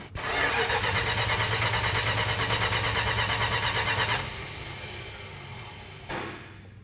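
A 1968 Dodge Charger R/T engine cranks for about four seconds with a rapid, even starter rhythm but never fires, then a lower hum follows and a short second crank blips near the end.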